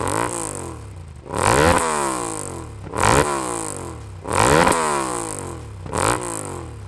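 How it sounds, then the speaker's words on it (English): A Yamaha Ténéré 700 rally build with a full Akrapovic exhaust and no dB killer revs hard four times, each throttle blip rising loud and sharp before falling back to a rumbling idle. "Akrapovic exhaust with no dB killer. The sound is amazing."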